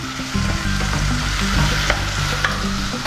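Cashews and garam masala powder sizzle and fry in a pan while being stirred for restaurant-style butter chicken, a steady loud frying hiss with scraping stir strokes throughout.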